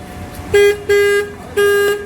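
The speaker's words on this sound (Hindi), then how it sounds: "ये बड़ा अजीब सा हॉर्न है यार" A Bajaj Pulsar N250 motorcycle horn honks three times nearby, each a steady buzzy tone, the first two short and close together, the last held a little longer.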